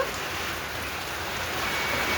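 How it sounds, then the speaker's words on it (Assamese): Wind-driven rain falls steadily and loudly, a dense, even hiss of drops that swells a little toward the end. "হেৰি পানী পৰিছে"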